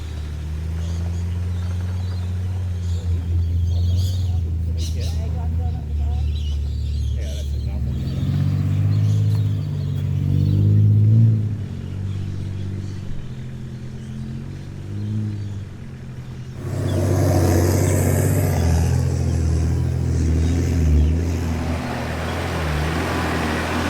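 Four-wheel-drive cars on a Cape York trip drive through the Genie River, their engines rumbling low and steady, rising louder near the end with splashing, while a voice talks over the first part.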